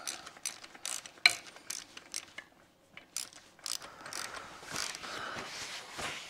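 A ratchet wrench snugging down gearbox bolts on an SEI Marine SE106 outboard lower unit, fitted to a 1976 Starcraft boat, with bursts of close, rapid clicking separated by short pauses and handling noise.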